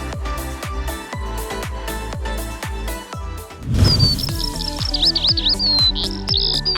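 Pet songbirds in cages chirp with a warbling, whistled song that starts partway through, layered over loud rhythmic music with steady drum beats.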